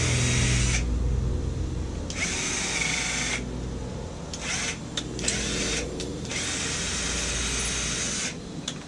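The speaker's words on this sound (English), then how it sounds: "the holes on the lights are just a tad small. So I'm going to drill those out without cracking anything." A power drill bores out undersized mounting holes in LED boat lights for a tritoon pontoon, running in repeated bursts of high whining drilling separated by short pauses, close and loud.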